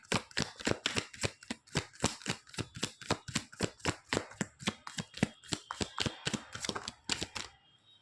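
Tarot cards being shuffled for a reading, a fast, even run of crisp card clicks, about three per second, close and clear, ending with a soft final rustle.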